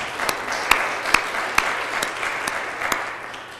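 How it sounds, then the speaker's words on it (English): A crowd at a sister city ceremony with Medan, Indonesia in Milwaukee applauds the Consul General, a steady, moderately loud wash of clapping with a few sharp nearby claps standing out. "let's give him a round of applause"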